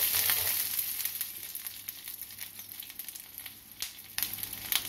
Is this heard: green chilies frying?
yes